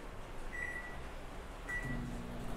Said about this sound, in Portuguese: De 5 a 7 minutos no micro-ondas.